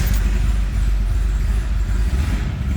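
The engine of a 1930 Ford Model A pickup street rod runs close by, a steady low rumbling idle with a dense, even throb and no clear revving.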